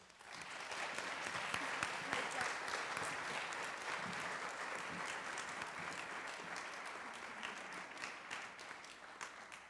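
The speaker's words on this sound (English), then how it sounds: "Can we please give a warm round of applause to Miss Teresa Davis?" Applause from an audience at an honors night award ceremony, steady and sustained throughout with dense, even clapping and no break.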